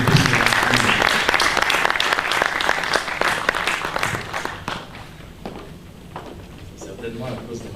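An audience at a Christian literature book fair in Kinshasa gives loud, dense applause that gradually thins and fades, with scattered voices under the clapping.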